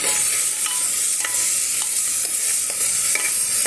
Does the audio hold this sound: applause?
no